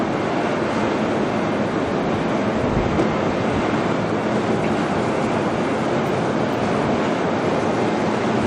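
A jet aircraft engine spools up at Auckland Airport, a loud, steady broadband roar that holds for the whole stretch with no pauses or voices.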